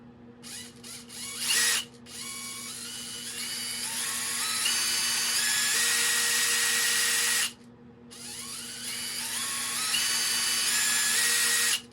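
A Dewalt DCD703F1 12-volt cordless drill whines at high pitch as its trigger is pulled, holding a steady speed for several seconds, stopping briefly, then spinning up again, close and loud.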